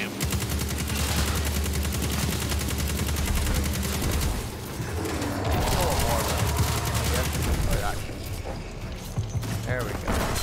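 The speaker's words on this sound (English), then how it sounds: "I have my rocket launcher out and ready." Rocket launcher blasts and rapid gunfire from a Destiny 2 squad fight against a large Scorn boss, dense and continuous with mechanical clatter and game effects, players' voices talking over the combat.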